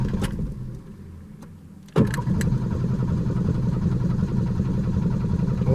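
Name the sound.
1989 Ford Mustang engine starting after 8 years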